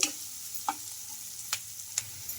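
Onions, green chillies and curry leaves frying in a pan, a soft continuous sizzle with a few sharp scraping taps of a spoon against the pan, close by and without talking.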